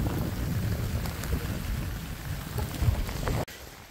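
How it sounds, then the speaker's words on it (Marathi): Steady monsoon rain pours down during a hill trek to Manohar and Mansantosh Gad, a dense, continuous hiss close to the microphone with no voices, ending in a sudden brief dip. "पाऊस पण दिलो."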